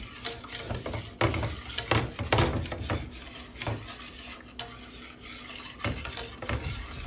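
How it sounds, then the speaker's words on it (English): A whisk scrapes and clinks irregularly against a pot as a sauce is beaten over high heat, with close metallic rattles and a soft bubbling underneath. "I'm going to keep whisking this"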